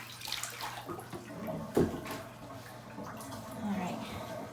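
Water runs and splashes onto a tie-dye shirt, a moderate wash of flowing liquid with a sharp splash partway through, under a person's voice.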